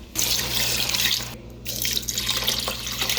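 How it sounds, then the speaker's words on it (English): Tap water pours steadily into a cooking pot holding vegetables and rice, a close, continuous splashing rush with a short dip midway before the flow resumes. "And we're gonna put 2 cups of water."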